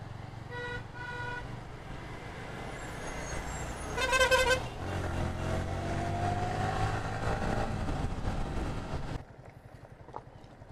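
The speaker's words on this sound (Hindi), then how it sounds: "ये सब घाट में ना ट्रक की वजह से बहुत जाम हो जाता है" Heavy truck and car traffic on a congested ghat road between Koraput and Jagdalpur in Odisha: a steady engine rumble with a loud horn blast partway through, then a quieter stretch at the end.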